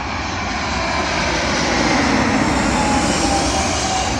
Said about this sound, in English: For our final plane of the day, here is BEA Retro A319, terminating here at London Heathrow.